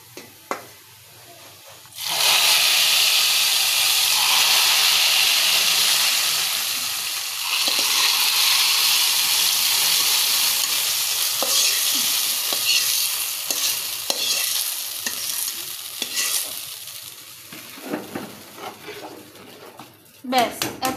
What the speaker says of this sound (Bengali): এখন আমি এতে ফোড়নটা ঢেলে দেব।